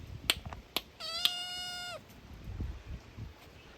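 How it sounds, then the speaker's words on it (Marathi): A cat on a village rice farm gives one clear, drawn-out meow, framed by a few sharp clicks and faint rustling in a quiet outdoor setting. "हे आपलं मांजर"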